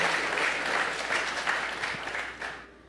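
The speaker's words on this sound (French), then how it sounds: "On nous applaudit le Seigneur pour ça" A church audience applauds at a book launch, a full, steady wash of clapping hands that is strong at first and thins out, fading away near the end.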